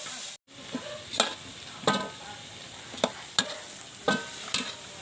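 Pork sizzles and crackles in a hot pan for Thai basil stir-fry, with repeated sharp scraping strokes of a spatula every second or so over a steady frying hiss, close and clear.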